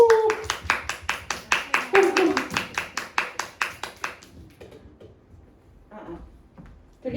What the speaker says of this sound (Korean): 김지민 대표님을 큰 박수로 모시도록 하겠습니다